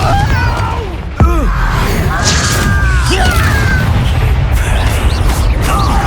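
A Confringo blasting curse goes off in Hogwarts Legacy as one sudden loud boom, followed by a rumbling tail under swirling magical whooshes, game effects and a character's voice.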